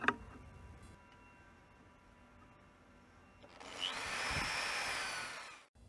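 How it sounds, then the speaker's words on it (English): A power drill bores a hole through a Harbor Freight utility trailer frame to mount a stake. It starts after a few seconds of quiet and runs as a steady, close grinding whine to the end. "I used a clamp to hold it while I drilled the hole."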